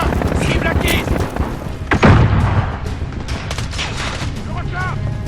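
Machine gun fire and explosions fill a Call of Duty: Modern Warfare campaign battle, loud rapid bursts and a heavy boom, with soldiers shouting throughout.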